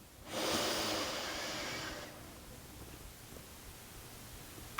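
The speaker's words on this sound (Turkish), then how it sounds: "Derin bir nefes alın." One long, deep inhaling breath during a meditation, close and breathy, lasting about two seconds before fading into quiet room noise.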